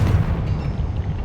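Confringo explosive spell blast from Hogwarts Legacy: a dense, rumbling boom with heavy low end that holds steady and loud through the whole short moment, with no voices.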